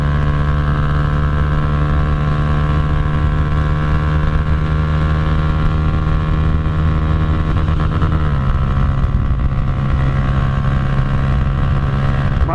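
Honda Titan 150 motorcycle with a Fortuna exhaust and Jet Motos camshaft climbing uphill, a loud, steady engine drone that shifts pitch around two-thirds of the way through.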